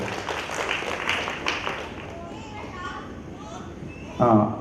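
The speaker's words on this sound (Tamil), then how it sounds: "அவங்களுக்கும் வந்து ஒரு கைத்தட்டல் வந்து நம்ம உற்சாகமாக கொடுப்போம்" Audience applause at a school event, a crowd clapping that fades over a few seconds under a speaker's voice, ending with a short loud burst.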